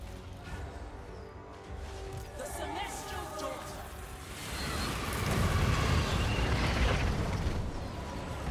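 A rocket hits a unit in a Total War Warhammer 3 Grand Cathay battle, a rumbling explosive burst that swells midway over ongoing battle noise, with someone talking throughout.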